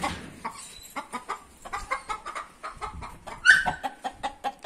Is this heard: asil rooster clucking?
yes